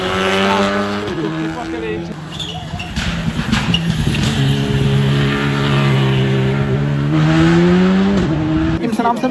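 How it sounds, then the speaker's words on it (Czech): A WRC rally car at the Central European Rally 2023 in the Czech Republic roars past at speed, its engine note rising and shifting with strong harmonic sweeps, loud and sustained throughout while a commentator talks over it. "Tím se nám sem blíží další auto."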